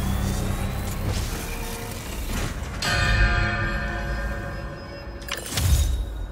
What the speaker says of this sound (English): Gotta recreate the sound of Craven's bell.